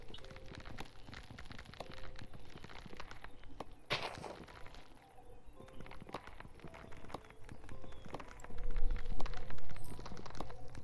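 Footsteps and clip-clop hoof sounds from a horse in the video game Minecraft, faint repeated steps over a quiet game background, growing louder and busier near the end.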